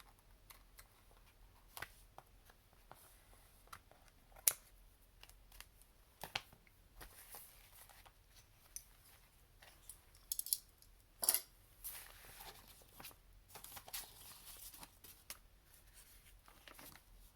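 Paper for a washi tape folio is cut with scissors, producing faint, sparse snips and small handling taps with quiet gaps between them, and no voices.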